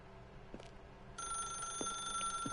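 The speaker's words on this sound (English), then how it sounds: "I don't think I want to pick the phone up." A telephone rings in The Stanley Parable, a steady electronic trill that starts partway through and holds on over a quiet room tone.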